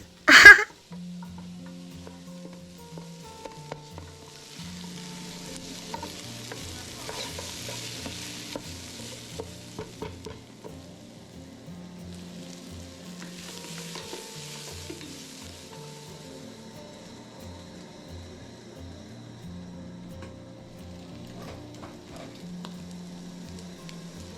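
Food sizzles and fries steadily in a covered sufuria with meat browning, with soft stirring scrapes and light clinks over a continuous close sizzle, after a brief sharp clatter at the start.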